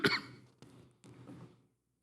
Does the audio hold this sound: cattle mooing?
no